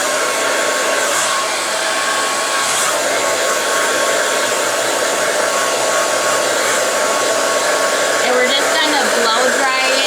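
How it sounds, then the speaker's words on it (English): Handheld hair dryer with a nozzle attachment blowing steadily on washed hair, a continuous loud whoosh holding for the whole stretch with slight shifts as it moves. "I'm just going to take my dryer"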